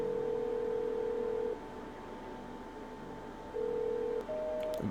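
In the video game No, I'm Not a Human, a telephone plays steady tones with a few short keypad beeps toward the end, quiet and alone.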